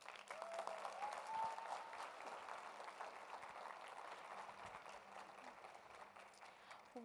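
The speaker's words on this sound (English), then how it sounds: "One more round of applause for Paul, please." Audience applause at the UNESCO Youth Forum, steady broadband clapping from a sizable crowd that carries evenly for about seven seconds, fairly distant and soft, with no talk over it.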